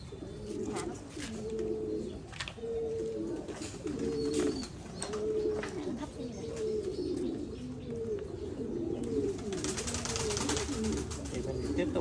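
Several pigeons close by coo in low, repeated, throaty calls, with a faint background hum and a brief rustle toward the end; the birds are sick, listless and off their food.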